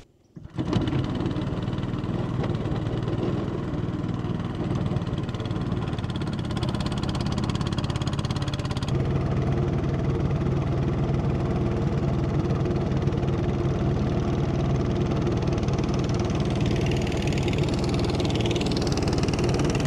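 A small motorboat engine on a river in the Amazon rainforest starts after a moment of quiet and then drones steadily and loudly, running continuously close by with a faint shift in pitch partway through.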